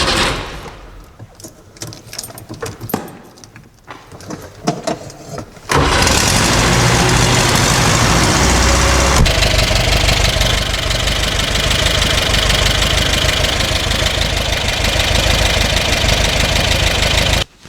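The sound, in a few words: ZAZ car engine idling and dying, possible carburetor problem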